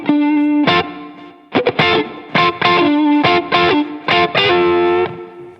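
Electric guitar solo played through amp and reverb plugins: loud sustained distorted notes and short bends in a broken phrase, alone with no backing.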